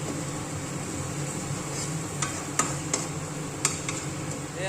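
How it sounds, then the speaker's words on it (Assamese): Dry spices frying in a pan for a pork dish with bamboo shoots: a steady, even sizzling hiss with a few sharp clicks of stirring scattered through it. "এতিয়া আমি মছলাখিনি অলপ ভাজি ল'ম।"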